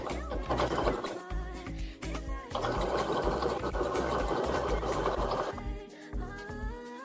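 A home sewing machine runs a straight stitch on bows for a Minnie bow sweatshirt, a loud steady mechanical whir with a few short pauses and restarts over about seven seconds.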